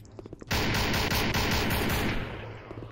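Rapid automatic gunfire from the Art of Fight video game, a loud dense burst of shots that begins abruptly after a few quiet clicks and runs steadily for over two seconds before easing off.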